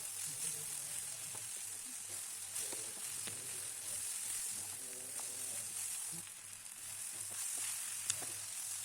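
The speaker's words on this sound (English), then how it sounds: "You should fry them in high flame like this. Stir it frequently." Eggplant pieces fry on a high flame with a steady, close sizzle, broken by scraping stirs and clinks of a spoon against the pan, running continuously with no talk.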